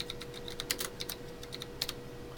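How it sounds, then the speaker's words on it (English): A name is typed on a computer keyboard, quick irregular key clicks in short bursts with a couple of sharper, harder presses, fairly quiet and close, with no talking. "just typed it in on the keyboard, hit enter"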